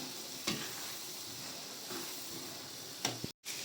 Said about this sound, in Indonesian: Lalu kita aduk.